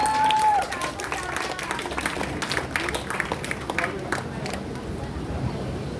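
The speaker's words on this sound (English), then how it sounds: "Audience has to clap" Audience applause and scattered clapping at a talent night, a broad crowd wash of hand claps with hubbub and a brief voice near the start, steady throughout.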